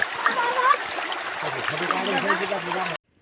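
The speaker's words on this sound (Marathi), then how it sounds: "किती भारी पाणी येत आहे, आणि नदीला पाझर फुटलेला आहे" River water rushing and splashing through farm fields, a steady close wash of flowing water with a voice talking over it before it cuts off.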